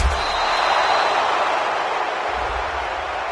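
A stadium crowd in a PS4 football video game roars steadily in reaction to an interception, a loud, continuous, even wash of cheering.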